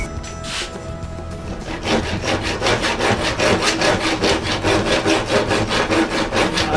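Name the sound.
handsaw cutting a wooden board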